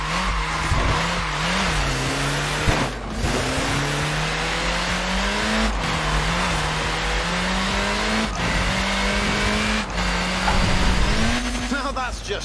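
Mini tyres squealing in Forza Horizon 4, a steady stream of engine drone and rising revs with scrubbing tyre noise running the whole time, loud and close, with a voice talking over it.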